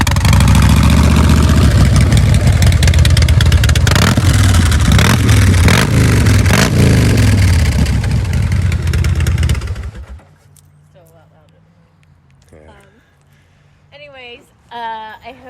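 A Harley-Davidson Low Rider S motorcycle with custom exhaust pipes runs loud and close, idling with several throttle blips and revs for about ten seconds before cutting off, followed by faint talk.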